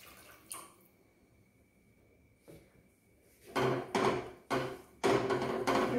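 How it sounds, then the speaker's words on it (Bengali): Water splashes into a gravy pan in short bursts after a quiet stretch with a faint tap or knock, the pouring loud and close for stuffed potato curry. "যে যেরকম গ্রেভি খাবেন সেরকম মতো জল দেবেন।"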